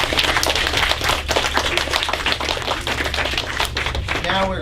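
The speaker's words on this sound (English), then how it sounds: "Give both of them a round of applause." A room full of people claps steadily for a few seconds in a dense, close patter of hands at the end of a debate, fading slightly near the close.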